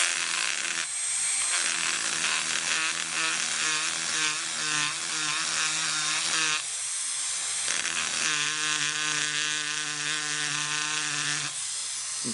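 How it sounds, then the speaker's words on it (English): Small Dremel-type rotary tool with rubbing compound polishing the steel of a 1911 pistol, producing a steady close high-pitched whine with a gritty buzz that briefly cuts out and restarts, with no talking. "Little Dremel type tool with some rubbing compound."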